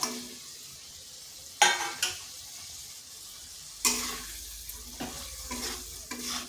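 Fish pieces are stirred into fried spice masala in a pan, with a few sharp scraping strokes and brief sizzling bursts over a low, quiet background.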